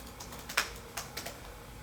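Keystrokes on a computer keyboard while entering text in image-editing software, a few sharp clicks spaced irregularly over quiet room tone, close and fairly soft.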